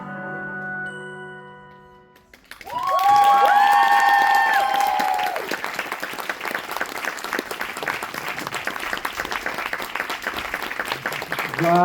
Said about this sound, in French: Voilà, des applaudissements continuent.